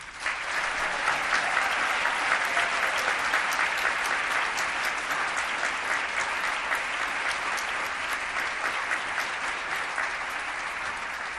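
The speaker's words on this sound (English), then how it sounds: "please join me in another round of applause" Sustained, dense applause from a large audience fills a 2019 International Women of Courage awards ceremony hosted by the Secretary of State, holding steady and then easing slightly toward the end.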